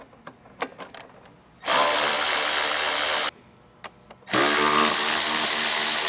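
A 10mm socket on a power tool removes screws during a cold air intake install on a Ford Mustang Dark Horse, with two loud, close, sustained whirring bursts separated by a short pause.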